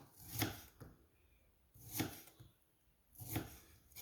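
Knife cutting the tops and bottoms off fresh strawberries on a board before dehydrating, three crisp chopping thuds spaced about a second and a half apart, close and clear with quiet gaps between.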